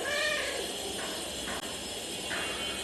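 A cat meowing indoors, a few short, faint meows spread over a few seconds against quiet room noise.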